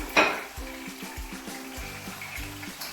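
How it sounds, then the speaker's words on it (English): Tomatoes and onion dropped into hot oil in a pan, a sharp burst of sizzling at the start settling into a steady frying hiss, with a few soft clinks and stirring knocks against the pan. "The oil is hot enough, so I'm going to add some tomatoes in, onion, tomatoes and onion."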